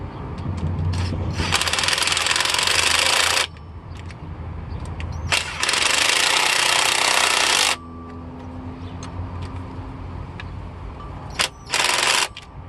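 A Ryobi power tool drives clutch bolts on a turbocharged VW Rabbit during a stage 3 clutch install, with two long, loud rattling bursts of a few seconds each, then a quieter stretch and a final short burst.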